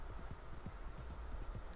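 Steady clip-clop of a horse's hooves as it is ridden along in the video game Red Dead Online, a quiet, even trot repeating under faint background ambience.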